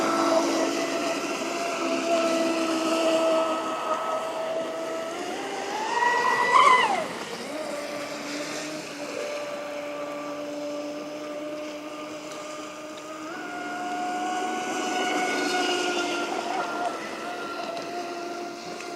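A Traxxas Spartan RC boat motor on 6S power drones steadily, its pitch rising in a brief revving surge midway before settling back into an even whine.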